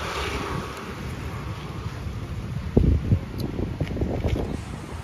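Strong wind gusts roar steadily across an open outdoor spot at night beside a parked car, loud broadband rushing with buffeting bursts against the microphone.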